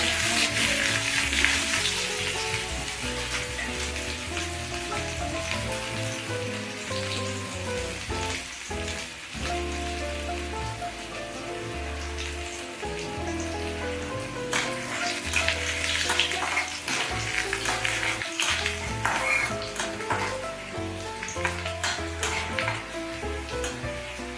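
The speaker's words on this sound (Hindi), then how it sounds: "पहले प्याज को हम ब्राउन" Chopped small onions sizzle and fry steadily in hot oil with mustard seeds in a home kitchen, a dense continuous crackle with occasional stirring scrapes throughout, no talking.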